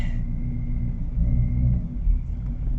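A supercharged Shelby GT350 drives at night, its engine a low steady rumble from inside the cabin with a slight swell as it pulls.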